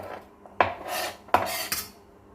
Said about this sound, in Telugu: సో డైరెక్ట్గా ఇలా కట్ చేసేసుకోవడమేను.